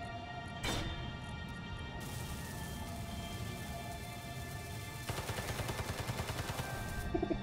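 Gunfire in Space Engineers, with a sharp single shot early on, then bursts of rapid crackling fire later over a steady mechanical hum, fairly quiet overall and without talk.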